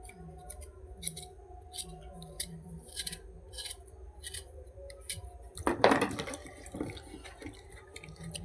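Black potatoes are rinsed in water in a home kitchen, with splashing and handling noises that rise into a brief louder wash near the end. Faint clinks and rustles come before it.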